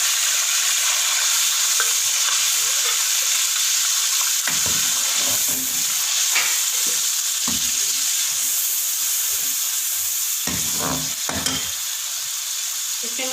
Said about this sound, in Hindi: ब्लेंड किया हुआ मसाला ऐड करेंगे।